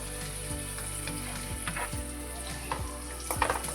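Chopped green chillies fry in a pan for a Gobi vatana (cauliflower and peas) dish, giving a steady close sizzle with faint scraping stirs and a few light clinks, with no voices.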